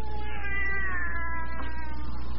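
A cat cries in a radio drama, a drawn-out, wavering meow that slides slowly downward, heard alone and fairly close for over two seconds.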